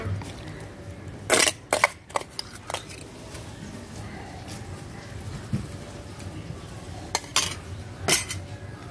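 Rice poured into a miniature toy cooking pot of boiling water during children's play cooking, heard as a few sharp metallic clinks and scrapes, grouped in two brief clusters against a low, steady background hum.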